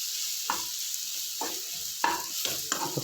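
Ridge gourd pieces coated with chilli powder and salt are stirred in a pan over a steady hiss of sizzling, with four or five distinct scraping strokes, the last ones coming closer together.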